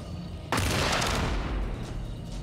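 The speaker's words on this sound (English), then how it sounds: "More grenades incoming!" Grenades from a Bliss launcher burst in Jagged Alliance: Rage, one loud blast setting off a dense, continuous rain of explosions and debris that rumbles on steadily at close range without letup.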